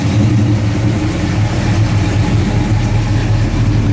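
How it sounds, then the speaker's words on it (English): A 1970 Plymouth Road Runner with dual exhaust idles steadily close by, its deep, even rumble holding a constant loping burble without revving. "It's got a great dual exhaust sound too, now that we got that idle turned down"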